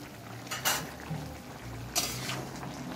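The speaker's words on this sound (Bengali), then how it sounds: "ঢাকনাটা খুললাম।" Metal cooking pot lid lifted off a simmering pot of shukto, two short clanking scrapes about a second apart over a faint background hiss, close and fairly quiet.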